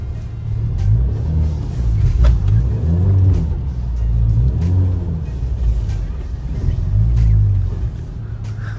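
An Alfa Romeo Giulia Q4 all-wheel-drive sedan drifting in snow, its engine droning and surging through repeated rising and falling revs, loud and steady throughout, with a voice faintly present beneath.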